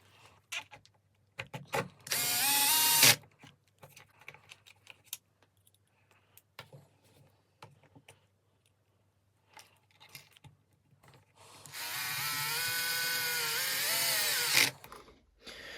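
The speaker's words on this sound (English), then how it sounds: "we should just screw the cover back on and jump to the next step" A small power screwdriver drives screws to fasten the ESC cover back onto a Traxxas X-Maxx RC truck, two loud whirring runs separated by quiet handling clicks and rattles.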